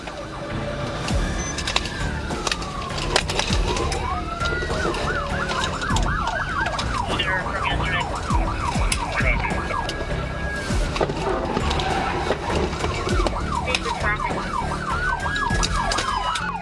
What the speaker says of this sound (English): sirens echoed from the ground and from the sky above.